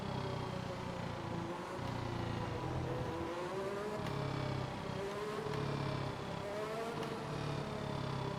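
An F1 car's exhaust in the F1 2021 racing game on PS5 during a slow drive, heard from an outside view as a steady, loud, tonal engine drone with shifting pitch that continues without pause.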